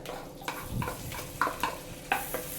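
Ginger, garlic and green chili are stirred in hot butter and vegetable oil, making a soft sizzle broken by several sharp scraping stir strokes against the pan.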